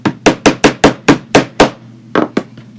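A small hammer taps about ten times in a quick, steady rhythm, with sharp and close knocks, then pauses briefly before two final taps.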